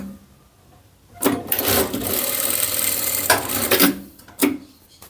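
A sewing machine stitches the collar of a child's long-sleeved pajama in one sustained run of rapid, buzzing whirs lasting a few seconds, close and clear, ending with a short final burst.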